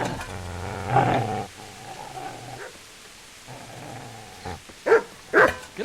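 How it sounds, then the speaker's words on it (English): A dog in the medieval game Kingdom Come: Deliverance growls and barks in a few rough bursts, close and fairly loud, with the sharpest barks bunched near the end. "Get away, you mutt!"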